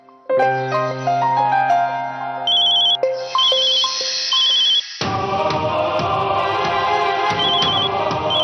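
A phone ringtone plays a repeated electronic melody that rings on without being picked up, loud and close, with a second brighter chiming tone layered in partway through.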